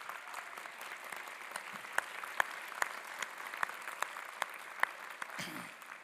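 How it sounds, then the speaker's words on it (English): Audience at a college of public health convocation applauds steadily for about six seconds, a dense wash of clapping from a large room with a few sharper claps standing out near the middle. "Please give them a round of applause."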